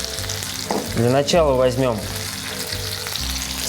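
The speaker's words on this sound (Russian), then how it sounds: "Тем временем, пока у нас жарится и готовится индейка со спаржей" Turkey pieces and asparagus fry over high heat for an Asian-style warm salad, making a steady, close sizzle while someone speaks over it throughout.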